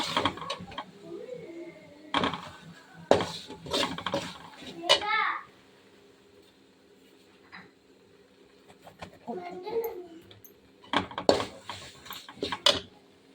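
Curry leaf powder being stirred into chitranna in a pan, heard as scattered metal clinks and scrapes of a utensil between stretches of nearby talking, including a voice.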